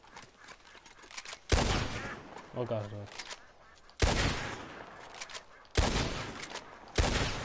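Loud shotgun blasts ring out while duck shooting in Red Dead Redemption 2, four sharp booming shots spaced a second or two apart, with a person talking briefly between them and a duck honking.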